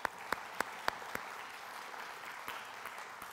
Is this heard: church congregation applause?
yes